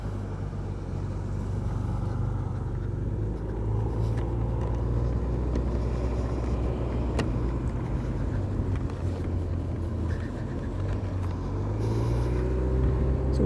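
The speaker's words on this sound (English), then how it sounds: "We'll make our way through heavy traffic." Heavy road traffic rumbles continuously along a cycling race route, with cars and trucks passing close by in a steady low roar and no clear breaks.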